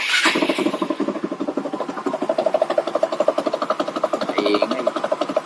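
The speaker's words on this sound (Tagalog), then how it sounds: "medyo maingay yung makina" Noisy Yamaha Mio MXI scooter engine, no longer a stock 125, idling with a fast, rattly, grinding pulse, close and steady throughout.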